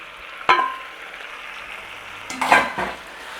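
A chicken and cabbage stir-fry is stirred in a pan: two sharp scrapes and clatters of the utensil, the second longer and louder, over a faint sizzle in a quiet kitchen.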